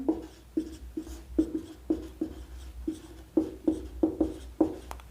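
Chalk strikes and scrapes on a blackboard during a group theory lecture, a steady run of about a dozen short taps and strokes in uneven rhythm, close and fairly quiet, with no voice over them.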